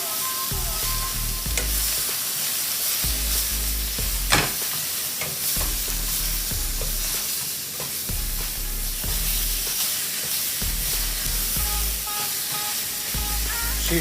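Ginger pork fries in a pan with a constant loud sizzle and hiss, while regular stirring strokes scrape through it, close up and with no talking.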